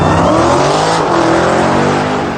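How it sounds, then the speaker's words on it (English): A drag car launches at wide open throttle and its tires spin and break loose, giving a loud continuous engine roar with screeching tire squeal close by, with no talking. "as soon as I went wide open throttle, car spins, and you can hear it in the video."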